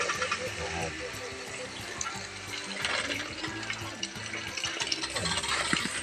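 Water poured from a tap or container into a cooking pot of homemade pancit noodles in a home kitchen, a continuous rushing splash running throughout, with a quiet voice speaking under it.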